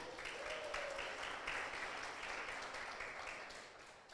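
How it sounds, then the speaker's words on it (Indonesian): A youth worship congregation applauds in praise during a church service, a broad, fairly faint wash of clapping that holds steady for about four seconds and tapers slightly at the end. "Beri tepuk tangan bagi Allah kita."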